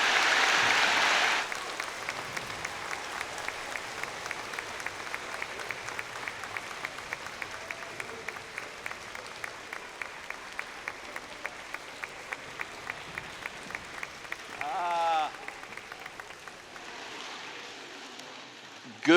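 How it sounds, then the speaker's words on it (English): An audience applauds for the Indiana governor at a state announcement event. Many hands clap in a steady, sustained wash that carries on for several seconds before fading out. "Let's give him a nice round of applause."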